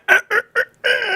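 A voice imitates a rooster crow: three short, loud, clipped bursts followed by a longer drawn-out final note, close up and alone.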